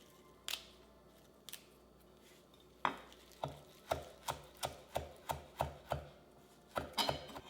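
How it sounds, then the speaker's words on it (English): A knife chops fresh parsley on a cutting board in a quick run of crisp, evenly spaced taps, starting with a few scattered cuts and settling into a steady close rhythm. "I'm gonna chop these up a bit. It doesn't have to be super finely chopped."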